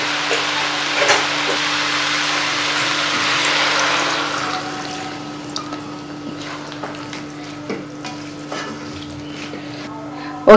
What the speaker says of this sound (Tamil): இதில் வந்து கொஞ்சம் தண்ணி போட்டு மூடி வச்சிடலாம்